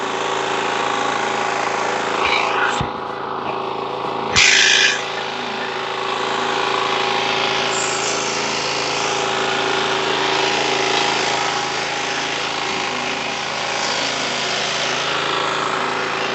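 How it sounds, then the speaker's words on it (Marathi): A 12 HP Kama diesel engine on a power weeder runs steadily with a constant droning chug, close by, with a couple of brief clanks early on. "यामध्ये कशा प्रकारे मशीन चालतंय त्याचा लाईट परफॉर्मन्स बघू शकता"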